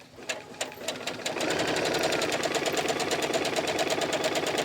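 A sewing machine stitches a garment seam down to the hem, starting with a few separate clicks before settling into a steady, rapid rhythmic whir that runs close and alone to the end.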